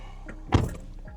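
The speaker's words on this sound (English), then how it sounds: "Let me close the door" A 2011 Volkswagen Golf door shuts from inside the cabin, one solid thunk with a short rattle after it, close and alone.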